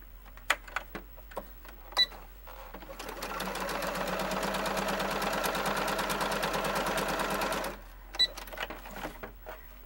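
A sewing machine stitches a fabric mask in one steady, fast run of about four seconds, with faint clicks and handling sounds before and after.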